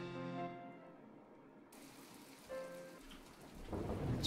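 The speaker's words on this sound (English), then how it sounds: "Still a rainy day." Rain and a thunderstorm in the life-sim game My Time at Portia, a steady soft downpour with low rumbling building toward the end, following a brief tonal game chime.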